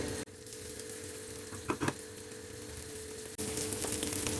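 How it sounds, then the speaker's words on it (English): Oats cutlets shallow-fry in hot oil in a pan with a steady close sizzle and a few brief crackles, with no talking. "Oil is hot, so slowly place this cutlets in the oil."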